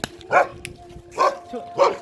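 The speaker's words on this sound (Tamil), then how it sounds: "இங்கே பாருங்க இவங்க வளர்க்குற நாய்" A farm dog barks three times in a village setting, each bark sharp and fairly close, spaced about a second apart, with a steady faint hum in the background.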